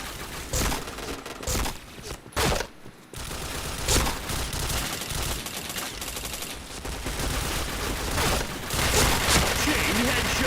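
Rapid bursts of gunfire and headshot hits in the online shooter Point Blank, dense and loud with short gaps, with voices and game sounds mixed in.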